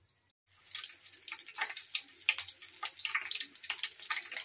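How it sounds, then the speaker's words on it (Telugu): Green chili bajji in batter frying in hot oil, a bright crackling sizzle that starts abruptly after a brief silence and runs on with irregular pops, close and unaccompanied by talk. "ఇవి గోల్డెన్ కలర్ వచ్చేదాకా మనం ఫ్రై చేసుకుందాం"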